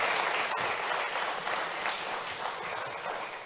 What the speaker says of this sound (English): got another round of applause